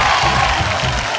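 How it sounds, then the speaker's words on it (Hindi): A studio audience at a Bhojpuri music competition show breaks into loud, dense applause mixed with cheering, filling the whole short moment. "एगो जोरदार ताली"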